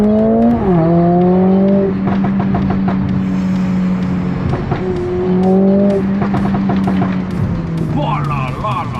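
Mercedes-AMG A45 S engine driving through town, a loud close droning growl that rises and falls with revs, crackles in between, and a final upward rev, with a person talking excitedly over it.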